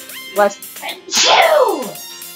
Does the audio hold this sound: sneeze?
yes